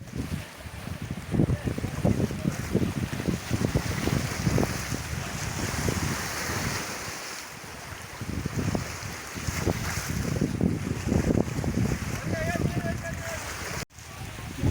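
A small boat moves along a fast-flowing river, its motor and splashing water blending into a constant rushing wash with wind buffeting the microphone and people talking nearby.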